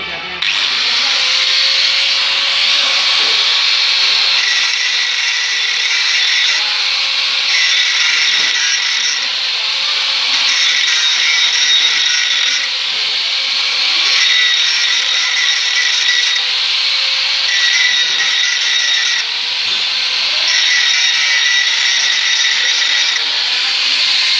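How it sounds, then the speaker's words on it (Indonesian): A handheld angle grinder works continuously on the end of a manual arc weld bead on steel plate, a loud, close, high whining grind that pulses slightly as pressure shifts, with brief voices under it. "Di ujung dari hasil pengelasan ini kita gerinda terlebih dahulu."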